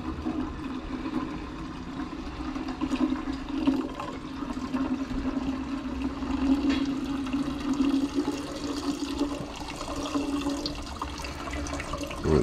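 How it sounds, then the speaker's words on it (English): Liquid carefully poured off into a beaker while recovering gold from purple CPU scraps, a continuous trickling, splashing flow that holds steady for several seconds with no talking. "So I'm going to carefully pour this off."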